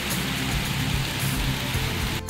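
Light drizzle falling steadily outdoors, a soft continuous hiss of fine raindrops with a low rumble underneath, close and even throughout with no voices.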